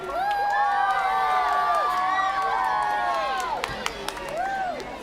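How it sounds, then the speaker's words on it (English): An audience at an outdoor Christmas carols-by-candlelight concert cheers, whoops and shouts, with children's voices high in the mix and some clapping underneath, a loud, dense crowd roar sustained for several seconds. "Big round of applause and a big thank you"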